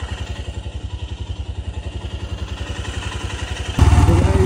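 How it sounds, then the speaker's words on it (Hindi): A motorcycle engine idles close by with a rapid, even pulsing thump, then revs up sharply near the end into a louder roar. "बाइक को स्टार्ट किया"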